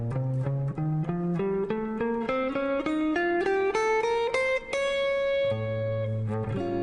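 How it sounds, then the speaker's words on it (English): An electric guitar plays a quick ascending run of bright, sustained notes on the altered scale, then settles back low, sounding processed, with no voices. "I recommend using the altered scale"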